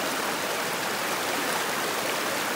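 A river brook rushes past large boulders along the Appalachian Trail, a close, loud and steady broadband roar of flowing water with no voices.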